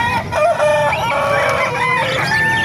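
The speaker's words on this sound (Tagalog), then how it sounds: "Mga ibon, mga iba't ibang klaseng ibon." Close, loud bird calls overlapping, dominated by rooster-like crowing and clucking from several birds at once, at an animal market in Calumpit, Philippines.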